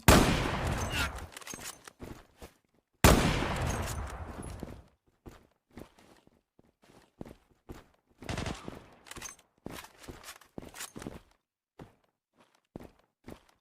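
Bursts of gunfire in the online shooter Zula, two long dense volleys followed by scattered short shots and footsteps, loud and close with no talking.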